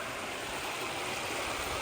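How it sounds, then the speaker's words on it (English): Water rushes steadily from a culvert exit in a small waterfall. The hiss is close, continuous and even, with no voices over it. "Makes a cute little waterfall."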